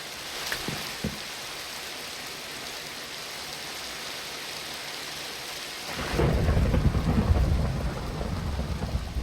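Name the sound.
rain and thunder in a video game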